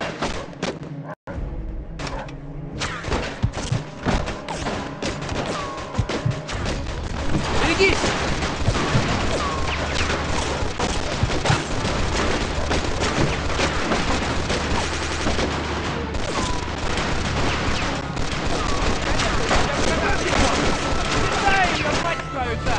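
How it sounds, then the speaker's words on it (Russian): Sustained machine gun fire and heavy gunshots in the video game Mafia 2, a dense loud barrage lasting throughout with thumps and booms mixed in. "похоже, мы нашли пулемет."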